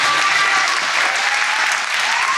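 An audience at a public school district forum applauds students, a steady, loud burst of clapping that lasts throughout.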